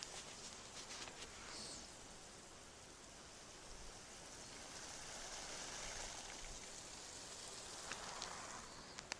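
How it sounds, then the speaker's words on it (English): Artificial rain sprinkles steadily over a garden, a soft continuous hiss of falling water that swells slightly toward the end, with faint higher splashes and no talking. "Pretty relaxing to listen to the rain, even if it's artificial rain."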